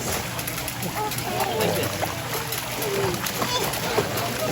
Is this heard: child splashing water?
yes